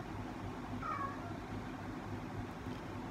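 A house cat gives a single short, faint meow indoors against quiet room noise.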